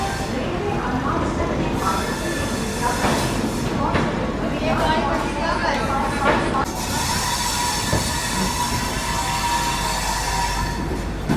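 A local train stands at a platform at Kanpur Central station, with a continuous rumble, wheel screeches and clattering from the rails, heavy station noise and people talking throughout.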